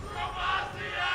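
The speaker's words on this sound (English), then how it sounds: "The crowd yelling Bromacia." A large crowd at the IPL4 esports event in Las Vegas yells together in a short, loud, continuous roar that swells and stays strong throughout.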